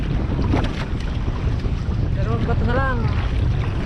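Strong northeast monsoon wind buffets a fishing boat at sea, roaring steadily with waves and engine rumble underneath, while someone speaks briefly over the noise.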